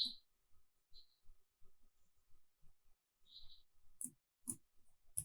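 Keystrokes on a computer keyboard entering a command in a Kali Linux terminal: sparse, faint clicks and taps in irregular short bursts, with a few sharper clacks near the end.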